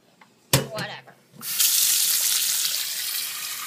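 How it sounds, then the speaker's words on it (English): Hot water runs from a kitchen tap into a bowl. A brief clatter comes first, then a loud, continuous, close hiss of the stream that holds steady to the end. "Hot water."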